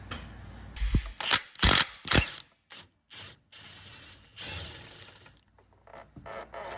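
A ratchet wrench works a 19 mm bolt on the rear engine mount of a turbocharged Honda Civic: loud close clicking bursts in short runs, then quieter intermittent ratcheting with gaps.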